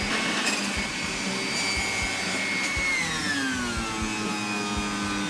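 A juicer juices local rhubarb with a steady, loud motor whine and a grinding roar, its pitch shifting downward partway through under continuous mechanical noise.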